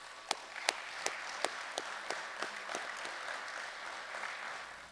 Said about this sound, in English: So what I would like our athletes to do real quick is applaud your coaches and your parents and everybody else here